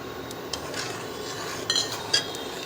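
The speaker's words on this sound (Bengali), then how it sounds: "এবার আমি ভালো করে নেড়ে নেব।" Custard powder mixture is stirred into milk in a pot, with soft scraping and occasional light clinks of a spoon against the metal pot, quiet and close over a faint hiss.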